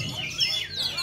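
A kacer songbird sings at a bird singing contest, giving bright rising and falling chirps and whistles in a short burst, near and fairly loud, with crowd noise underneath.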